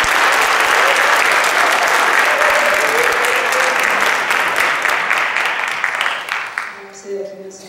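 A church congregation at a youth worship service gives missionaries a big round of applause, loud dense clapping that fades out near the end, with voices emerging as it dies down.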